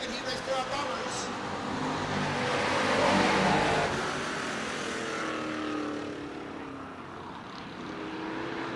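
Bomber-class stock cars in a heat race at Redwood Acres Raceway, engines roaring past through turns three and four, swelling to a peak and fading, under an announcer's commentary.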